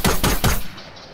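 Three rapid, loud gunshots from the video game Fortnite crack in quick succession, then a short fading tail.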